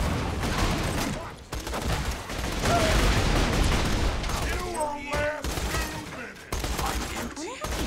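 Dense, sustained gunfire fills a Borderlands firefight, overlapping shots and booms rattling on loudly for several seconds, broken by brief gaps and a few whistling tonal effects, with voices mixed underneath.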